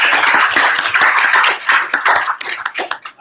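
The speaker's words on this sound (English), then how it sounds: "why don't we give Derek a big round of applause for" An audience at a superhero drawing class gives a round of applause, close and loud, with many hands clapping in a busy, uneven patter that thins out toward the end.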